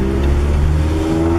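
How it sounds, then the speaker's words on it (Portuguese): A Volkswagen Gol Highlander engine drones loudly and steadily under acceleration for a brief moment, heard from close by with no talking. "Aceleração, resposta rápida."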